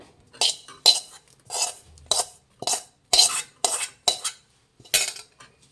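Cashews and dry coconut get mixed in a pan for Sankranti sweet pongal: about nine separate, crisp scraping strokes of a metal spoon against the pan, close and evenly spaced, with quiet pauses between.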